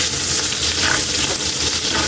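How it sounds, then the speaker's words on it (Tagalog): Garlic sautés in a pan of oil: a steady, close hiss and sizzle that runs throughout without pause. "Gigisa na tayo Kaili ng bawang"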